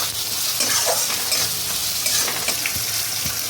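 Tomatoes go into a spice paste already frying in a pan, giving a loud, steady sizzle with scattered scraping stirs near the microphone and no talk.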